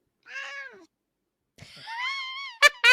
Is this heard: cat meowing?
yes